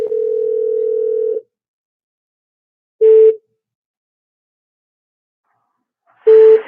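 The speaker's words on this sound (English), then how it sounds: "Let me get him back on the phone." A phone line tone holds steady for about a second and a half, followed by two short separated tones a few seconds apart, clean and close with silence between.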